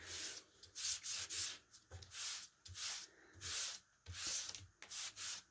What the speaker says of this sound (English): I'm rubbing that sponge across with different pressure, and you can see it's leaving a variety of textures.